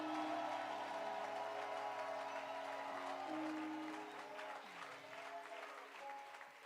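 Applause from a congregation in a church, a moderate, steady patter of clapping that slowly thins and fades toward the end, heard somewhat distant beneath sustained organ-like tones.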